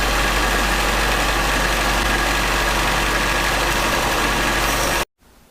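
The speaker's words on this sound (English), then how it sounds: "I'm going to go over to the sander and try to sand out a little bit more of this" A sander grinding down a copper archer's ring: a steady, loud whirring drone with a gritty buzz that runs continuously and cuts off abruptly near the end, leaving quiet.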